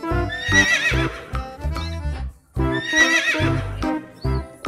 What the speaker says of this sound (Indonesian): ini hewan kuda.